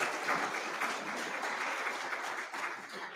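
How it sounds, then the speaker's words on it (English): An audience at a 2021 faculty and staff service awards ceremony claps for five-year honorees, a sustained, even patter of many hands filling the room without a break. "Another round of applause for our 5-year recipients."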